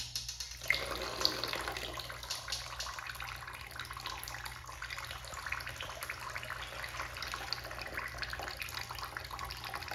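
Oil from a damaged BMW M20 oil pan pours steadily in a continuous liquid splashing stream, close and fairly quiet, over a low hum.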